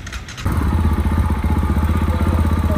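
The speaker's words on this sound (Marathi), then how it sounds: "बाईक रॅम्पवर ठेवून आत नेणं चालू आहे" A motorcycle engine fires up after a brief quiet moment and then runs loudly and close at a steady, pulsing idle while being moved onto a loading ramp.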